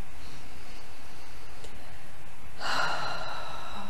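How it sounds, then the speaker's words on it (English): A deep breath taken during a relaxation and tapping exercise, a broad airy inhale swelling up near the end after quiet room tone, close and fairly soft. "Nice deep breath."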